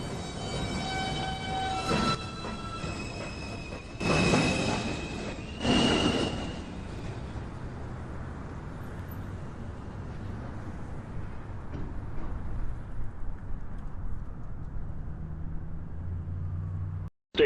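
A New York City Subway Manhattan-bound 2 train at Beverly Road station, its rumbling wheels and rail noise steady across the platform, with a few louder bursts early on and a low hum fading toward the end.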